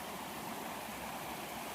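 Knee-deep floodwater flows across a road in a steady, broadband rush and gurgle that stays close and even throughout, with no voices.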